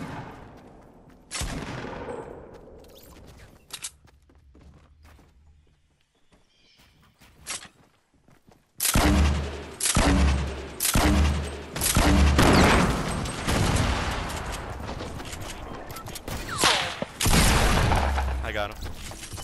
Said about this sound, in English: It's just a heavy shotgun. They're fighting right here at the small house.